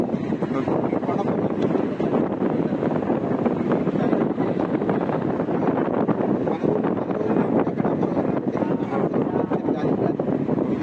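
Strong wind blowing on a hill at Tirumala, a continuous heavy rushing roar buffeting the microphone with little variation for about ten seconds, with no other distinct sounds on top.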